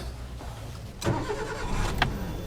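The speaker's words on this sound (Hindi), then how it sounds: "गाड़ी हो गई है स्टार्ट" A car engine, shown on a Toyota Vitz, cranks and catches at about one second, then settles into a steady idle, close and fairly loud, with a brief sharp click near the two-second mark.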